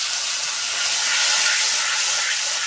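Water poured into a hot pan of mustard-spiced catla fish gravy with turmeric and chilli powder, a loud steady hiss of steam and sizzle running alone throughout.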